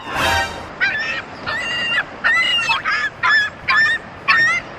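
A goose honks loudly at a beach, giving about seven harsh, nasal calls in a steady rhythm right up close, with no talk heard.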